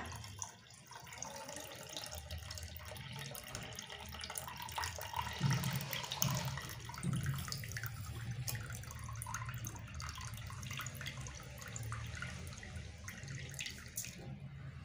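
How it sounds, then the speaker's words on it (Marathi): Water draining off washed foxtail millet rice, a soft, steady trickle and splash that runs quietly throughout with no talk. "पाणी चांगलं नितळून घेऊया."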